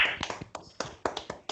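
Scattered hand claps over open microphones on a video call, a handful of sharp, separate slaps spaced irregularly and fairly faint, with no talking.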